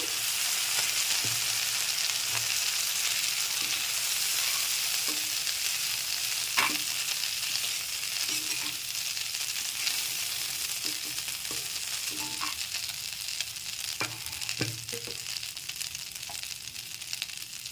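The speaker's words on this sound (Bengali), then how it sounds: "চিংড়ি মাছগুলো ভেজে নিয়েছি, এখন তুলে নিচ্ছি।" Prawns frying in oil in a pan, a steady moderate sizzle with scattered pops and clinks of stirring, close and continuous, no voices.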